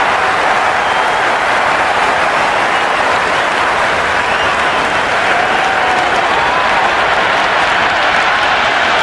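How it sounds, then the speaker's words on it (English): Sustained loud applause and cheering from a packed stadium crowd in the cricket video game Cricket 26, a dense, unbroken roar of clapping that holds steady throughout. "It's evident and ever so audible that the crowd is at near bursting point at today's play."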